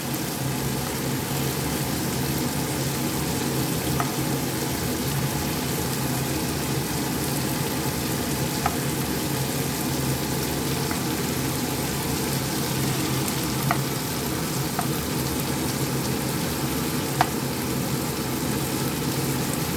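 Small puti fish fry in an oil-filled pan, giving a steady, even sizzle that holds for the whole stretch at moderate loudness, with a few faint clicks and pops and no talking.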